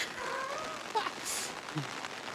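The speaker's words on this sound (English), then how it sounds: "Hiking in the rain." Rain falls during a hike on the Colorado Trail near Alamosa and Monte Vista, on a muddy road walk. A steady soft hiss of rain continues throughout, with a few faint chirps over it.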